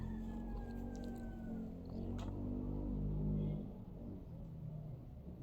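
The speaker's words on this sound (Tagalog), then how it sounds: "Daming sasakyan na dumadaan ngayon." Vehicles pass outside one after another, a low, distant engine rumble that swells and fades with rising and falling tones, faint and heard from indoors.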